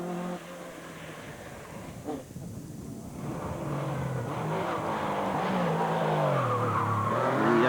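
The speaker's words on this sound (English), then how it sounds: "Porsche sounding superb." A Porsche rally car races on a stage of the 1997 Jersey Rally, its engine rising steadily in pitch as it accelerates, with tyre skids, building louder toward the end.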